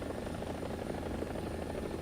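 Mi-24P attack helicopter in War Thunder gives off a steady, fairly quiet rotor and engine drone that holds constant with no talk over it.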